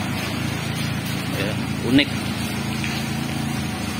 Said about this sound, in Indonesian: Bunyi mesin.